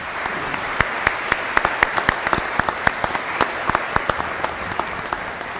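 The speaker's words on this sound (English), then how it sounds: "would you please join me in showing your appreciation to your family and your loved ones with a round of applause" Graduates and guests at a high school commencement ceremony give a steady round of applause for their families, dense clapping with sharper individual claps standing out, carrying on without talk.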